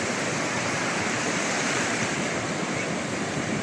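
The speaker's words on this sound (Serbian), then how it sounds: "Danas su talasi, što je i najbolja karakteristika ove plaže za uživanje kada su talasi." Sea waves washing onto a sandy beach on Thassos, a continuous loud rushing surf with some wind buffeting the microphone and no talking.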